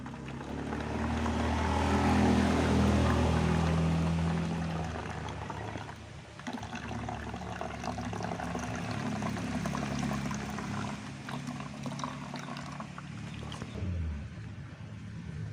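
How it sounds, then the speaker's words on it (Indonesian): A homemade pesticide mixture is poured into a lidded container, making a continuous, fairly loud splashing gush that swells early and then keeps running steadily. "Akan kita tumpahkan atau kita tuangkan, pindahkan ke wadah yang ada tutupnya"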